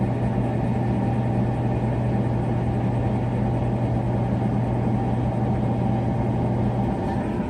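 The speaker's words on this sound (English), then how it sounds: "I'll see if I can catch the auger spinning in my bin" The auger motor of a Quadrafire pellet stove runs steadily, a constant low hum with a faint mechanical whir and no pauses.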